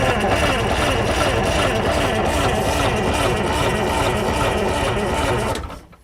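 A 10-wheel logging truck's big engine runs with a loud, steady, dense rumble close by, continuous throughout and cutting off abruptly in the final second.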